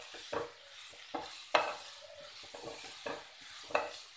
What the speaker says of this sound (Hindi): कद्दूकस किया हुआ गाजर डाल देंगे हम। इसे हम कुछ देर तक भूनेंगे